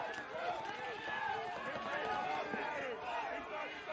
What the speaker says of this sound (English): This crowd's going nuts on both sides.